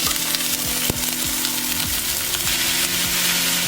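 Stock poured into a hot pan with seared chicken breast sizzles loudly and steadily, with the clinks and scrapes of stirring over the frying hiss.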